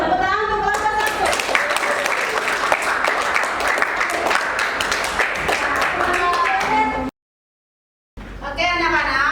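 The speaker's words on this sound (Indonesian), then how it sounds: "Tepuk tangan untuk kelompok 1." A classroom of students clapping for a group after its presentation, dense steady applause for about seven seconds before breaking off, then another short burst with a voice over it.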